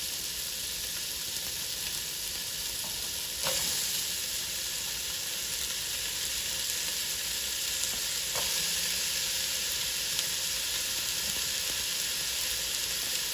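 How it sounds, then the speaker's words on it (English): Onions, celery and carrots sauté in a Dutch oven with a steady, even sizzle and hiss, broken by a couple of brief clinks of a utensil against the pot. "Now is time to saute up your veggies"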